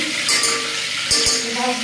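Curry leaves tempering in hot oil give a steady, close sizzle, with a couple of soft clinks from a utensil against the pan.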